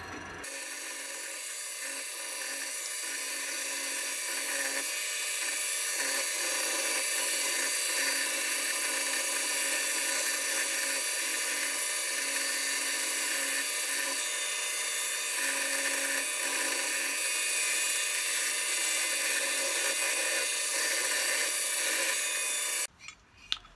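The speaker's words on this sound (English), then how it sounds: "I spent a lot of time just using the wire wheel, trying to get as much of the dirt and paint and everything I could off" A wire wheel scours paint and dirt off an antique 110-year-old Stanley Bailey No. 4 1/2 hand plane, giving a steady high-pitched whirring and rasping grind that runs nearly unbroken for over twenty seconds before stopping abruptly.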